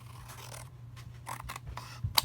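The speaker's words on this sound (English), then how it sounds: "Now I'm going to take my scissors, and I'm just going to cut" Scissors snipping through paper in a few quick cuts, close up, with a faint low hum underneath.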